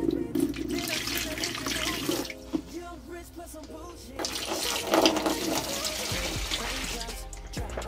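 Water and bleach slosh and splash in a bucket as they are stirred together, with a steady wet swirling and some clunks of handling.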